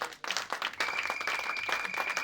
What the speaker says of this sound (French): Acclamons pour les voix de gloire.